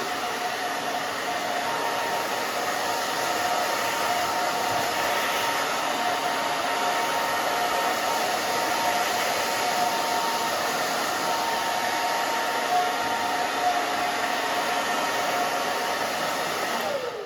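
A hair dryer runs continuously on a pixie haircut, a steady, loud, close whooshing hum that holds without pause throughout, with no voices heard.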